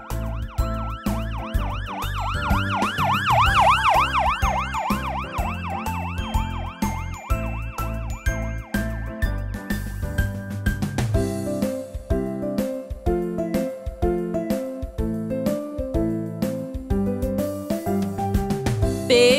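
An ambulance siren wails in a rising and falling sweep, then gives way to a bright, stepped electronic tune with repeating notes, loud and close throughout.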